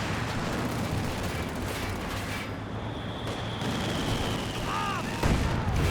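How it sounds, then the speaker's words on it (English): A heavy mortar fires in Company of Heroes 2 amid ongoing battle noise, with dull booms over a dense din of gunfire and a louder thump near the end. "The heavy mortar getting going."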